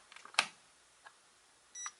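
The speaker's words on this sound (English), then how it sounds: "the meter started to beep" A faulty cheap multimeter gives a short, faint electronic beep near the end, preceded by a few soft clicks and a brief sharp tap, in a quiet room.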